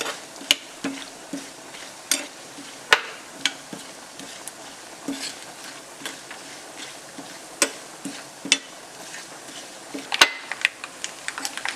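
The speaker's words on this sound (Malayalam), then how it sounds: "തേങ്ങാക്കൊത്ത് നന്നായിട്ട് മൊരിഞ്ഞ് വന്നിട്ടുണ്ട്." Coconut pieces crisping in a pan as they are stirred, giving a faint, low sizzle broken by repeated sharp scrapes and ticks of the spoon against the metal.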